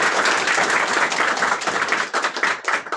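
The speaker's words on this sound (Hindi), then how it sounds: "आपके जोरदार तालियों के बीच हम स्वागत करेंगे शिव सर का" An audience gives enthusiastic applause to welcome a mathematics teacher guest, a thick sustained clapping that stays loud throughout, with uneven bursts near the end.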